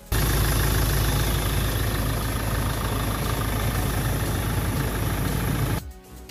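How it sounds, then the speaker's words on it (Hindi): A Mahindra Scorpio diesel engine idles with a steady, rough low rumble and faint knocking, running continuously before cutting off abruptly near the end. "Let's check out the engine sound."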